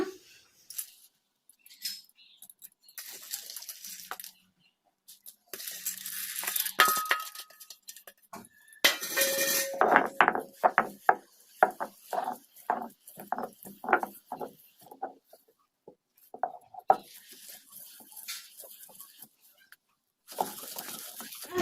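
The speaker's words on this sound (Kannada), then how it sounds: "ಇನ್ನೂ ಸ್ವಲ್ಪ ಬೇಳೆ ಇದಾವಲ್ಲ ಇವನ್ನು ಕೂಡ ಹಾಗೇನೆ ರುಬ್ಕೊಂಬಿಡೋಣ" Split black-eyed pea lentils are ground by hand in a village-style stone mortar, giving a quick series of knocks and gritty scrapes in a steady rhythm. Quiet gaps break up the bursts of work.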